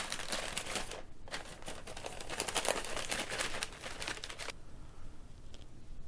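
Crinkling plastic and paper packaging being handled and torn open while unboxing an MST RMX 2.0 RC drift car kit, a dense close rustle that runs for several seconds, then stops abruptly to a quiet room.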